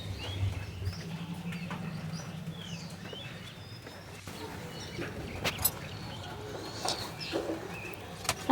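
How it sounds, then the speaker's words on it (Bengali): Birds chirp and coo outside during rain, scattered short calls at a moderate distance over a steady soft patter of rainfall. "বাইরে দেখো কি সুন্দর পাখির কিচিরমিচির আওয়াজ হচ্ছে আর বাইরে বৃষ্টি হচ্ছে"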